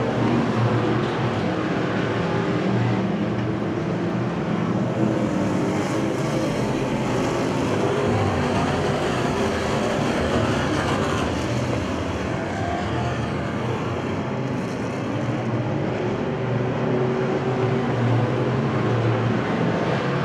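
Bomber class stock cars race at Winston Speedway, a continuous engine roar from several cars circling at a distance, blended with crowd-like ambience and no clear voices.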